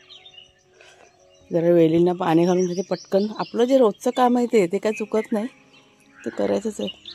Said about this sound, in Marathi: एकच कावळा आहे पण कसला ओरडतो ना.